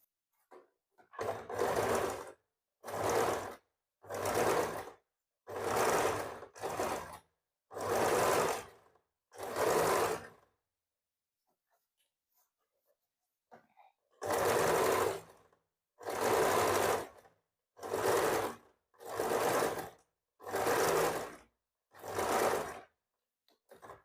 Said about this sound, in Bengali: আমি এখানে দেখো ভেতরের দিক থেকে সেলাই করে বাইরের দিকে নিয়ে আসছি